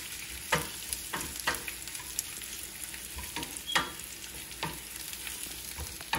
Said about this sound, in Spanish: ahora voy a poner la tortilla que ya calenté a dorar